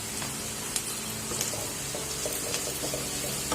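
Turmeric and dry fish masala frying in hot oil in a home kitchen, a steady close sizzle with scattered small pops and crackles, no talking.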